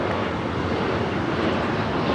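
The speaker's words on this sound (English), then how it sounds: "749 taking off to Tampa, Florida on the A321 Neo" A Delta Air Lines Airbus A321neo takes off at LAX with a steady, broad jet-engine roar heard from a distance, unbroken for the whole moment.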